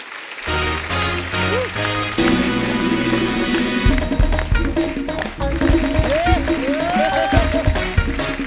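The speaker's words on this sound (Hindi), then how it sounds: "एक बार जोरदार तालियां हमारे कलाकारों के लिए।" Studio audience applause on a Hindi TV comedy talk show welcoming child performers, loud crowd clapping mixed with cheering and music-like tonal sounds, continuous throughout.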